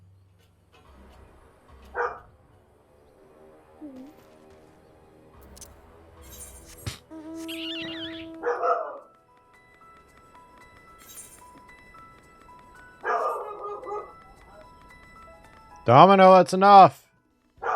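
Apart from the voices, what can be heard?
dog barking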